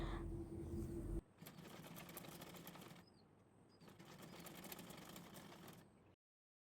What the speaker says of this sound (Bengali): চলুন এবার কথা না বাড়িয়ে পায়জামাটি আমরা সেলাই করা শুরু করে দিই।